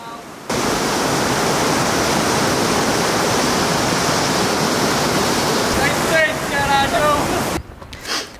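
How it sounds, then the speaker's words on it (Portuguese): Cascata do Arado waterfall in Gerês, Portugal pours in a dense, steady roar of rushing water heard up close, with faint brief tones near the end before it cuts off. "É à beira da cascata do Arado"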